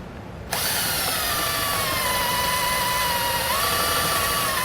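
A power drill whines at a steady pitch while driving bolts into a slide-out awning rod on a 2019 Keystone Impact RV, starting abruptly and running loud and continuous with slight pitch shifts as the bolts grab.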